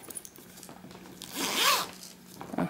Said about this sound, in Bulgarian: Отгоре имаме цип.